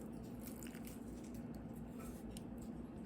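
A spoon stirring a tablespoon of water into a bird food biscuit mix, giving soft wet squishing and scraping sounds that repeat unevenly up close, with no talking.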